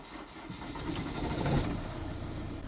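A Ford Transit van with an engine management fault starts up, the engine cranking then catching and settling into a mid-pitched idle that swells briefly before steadying, close by with no talking.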